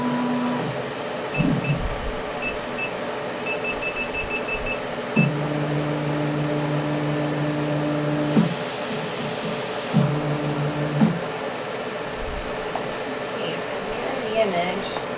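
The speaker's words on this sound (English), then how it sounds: "I am going to cut my acrylic." A cutting machine working on an acrylic sheet hums steadily with on-off motor tones, a few mechanical beeps and clicks, and a speaking voice partly over it.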